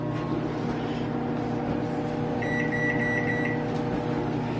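A microwave oven heating butter hums steadily and evenly, and a short run of high electronic beeps sounds partway through.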